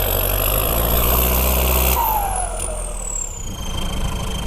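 Modified pickup truck engine revving, loud and close, holding high then dropping away at about two seconds into a steady rumbling idle.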